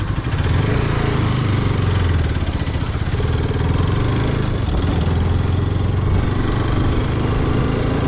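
Motorcycle engine running after a crash, a close, loud, steady mid-pitched drone with a low throbbing rumble that holds evenly throughout.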